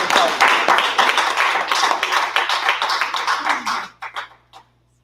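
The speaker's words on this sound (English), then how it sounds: "Can we give them a round of applause?" A round of applause for bank presenters at a Project CEO event, with a room of people clapping briskly for about four seconds before it thins out to a few last scattered claps.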